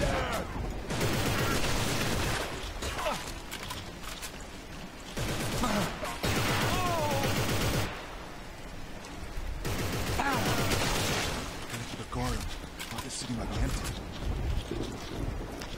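Gunfire in the video game Inversion, dense bursts of automatic fire and explosive crashes rolling almost nonstop in loud waves, with brief lulls and shouting voices mixed in.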